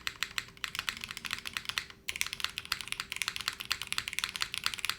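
Rapid typing on a 60% mechanical keyboard with Obscura switches, a dense stream of crisp clacks with a brief pause near the middle, close and clear with no voices.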